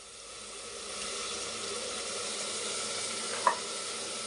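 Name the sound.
frying spices and curd for egg biryani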